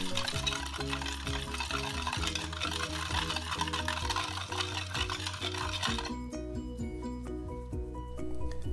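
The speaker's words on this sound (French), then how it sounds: "on mélange le tout pour dissoudre le sucre" Sugar, rice vinegar, mirin, soy sauce and sesame oil stirred together for a vegan soba and peanut satay soup, a rhythmic clinking and scraping of utensil against the bowl under a steady musical backing.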